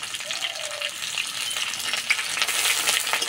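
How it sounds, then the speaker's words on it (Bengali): Ginger and garlic paste fries in hot oil with potatoes and five-spice seeds, a soft, steady crackling sizzle with small pops, heard close and alone. "এবার দেবো আদা বাটা, রসুন বাটা"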